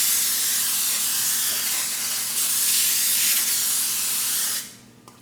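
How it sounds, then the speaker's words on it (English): Cooking spray from an aerosol can hisses steadily onto a baking pan for spaghetti, one long continuous spray that cuts off near the end. "your cooking spray and you're just going to make sure there's a good amount all around so your spaghetti doesn't stick to the pan"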